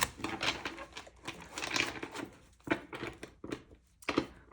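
Tarot cards being shuffled by hand, a quiet run of soft riffling slaps and papery flicks arriving in short irregular bursts, close and alone.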